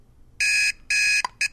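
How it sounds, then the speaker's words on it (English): A phone plays its classic alarm ringtone: three bright electronic beeps, the first two long and the last short, loud and close with no other sound. "Classic alarm."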